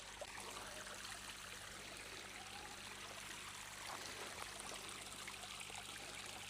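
Water trickles steadily over natural stone into a wildlife pond, a soft continuous babble with light splashes, faint and close, with no voices.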